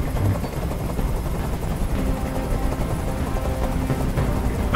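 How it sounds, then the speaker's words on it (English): Helicopter hovering in Detroit: Become Human, a steady low rotor rumble filling the scene continuously at close range, with a dense broadband wash and no voices over it. "Tell that helicopter to get out of here!"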